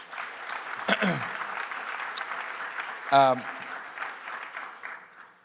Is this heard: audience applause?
yes